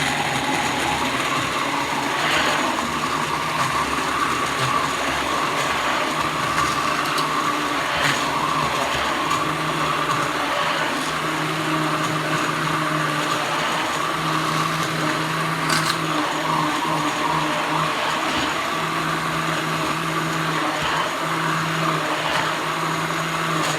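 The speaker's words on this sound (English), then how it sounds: "Busting out the immersion blender." An immersion blender whirs continuously through a roasted garlic and onion dressing, a steady buzzing motor hum with slight shifts in pitch, close and loud, no voices.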